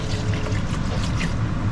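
A jar of water poured into a gumbo pot, a continuous close splashing trickle filling the short moment without any talk.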